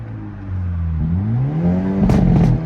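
Hyundai Elantra N exhaust in N mode, revving up in a rising drone that climbs in pitch and peaks with a couple of sharp crackles before settling, close and loud.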